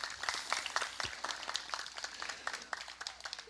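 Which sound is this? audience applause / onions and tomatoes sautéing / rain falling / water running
audience applause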